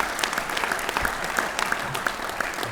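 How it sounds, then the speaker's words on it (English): An audience at the St. Louis Amateur Hockey Hall of Fame ceremony applauds, a steady, full-room clapping with a few sharper individual claps standing out throughout. "give him a round of applause"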